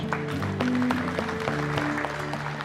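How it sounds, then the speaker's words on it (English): Audience applause at a talk, a continuous, fairly soft patter of clapping mixed with tonal background music. "Give these guys a big round of applause"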